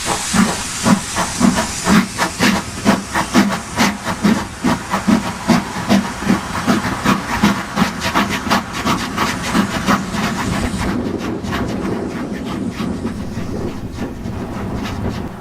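A restored steam locomotive on the West Somerset Railway chuffs in steady rhythmic beats with strong steam hiss, then settles into a continuous loud hiss near the end, close by and free of voices.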